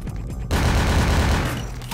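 A sudden loud burst of gunfire erupts in Vampire: The Masquerade – Bloodlines, a dense rapid volley that sustains at full level before easing slightly, with no talking.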